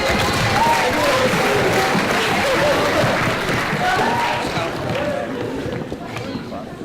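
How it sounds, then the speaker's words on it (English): Audience applause and cheering in a hall during a motivational talk, a dense, steady roar of clapping and crowd noise that slowly fades toward the end. "Round of applause."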